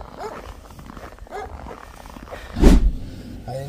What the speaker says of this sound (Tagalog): May aso, laki.